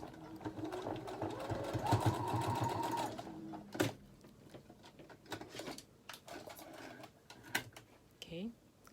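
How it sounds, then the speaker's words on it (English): A sewing machine stitching a fabric face mask: a close, rapid whirring run for about three seconds, then scattered clicks, fabric handling and soft thumps as the work is moved, with a voice speaking quietly. "Okay, and just go sew your other side."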